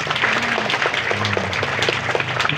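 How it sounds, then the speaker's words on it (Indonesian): Wedding reception guests clap after a sermon, a short burst of crowd applause filling the room, moderately loud and continuous, with faint voices mixed underneath. "Tepuk tangan dulu sedikit."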